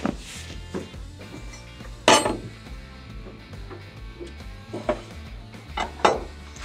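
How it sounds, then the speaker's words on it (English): Lock nuts and bolts being removed from the crushing chamber of a Keestrack R3H crusher machine, with scattered metallic clinks and knocks of tools on steel over a low mechanical hum, a few sharper clanks standing out. "First remove the lock nuts, and then remove the normal nuts and take the bolts completely out."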